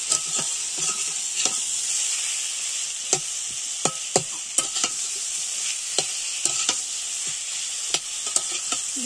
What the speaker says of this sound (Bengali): আলুগুলো দিয়ে ভালো করে কষে নেব।